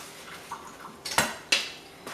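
Bread pudding being mixed in a bowl, a few sharp clinks and scrapes of a utensil against the bowl, close and sparse over a quiet background.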